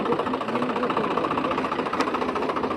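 A Swaraj tractor engine runs steadily in a farm field, a loud continuous rumbling chug with a faint sharp click partway through.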